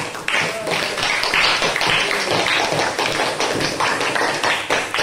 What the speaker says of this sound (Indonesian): Kasih aplaus dulu untuk kelompok 2.